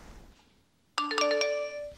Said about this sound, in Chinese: 手机响